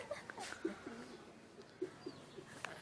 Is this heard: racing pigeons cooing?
yes